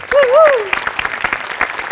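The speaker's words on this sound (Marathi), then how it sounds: "गोस्वामींसाठी आणि प्रथमेशसाठी भयंकर टाळ्या" Studio audience at a comedy show breaking into applause, a burst of sharp clapping over a brief vocal whoop at the start, continuing in uneven bursts.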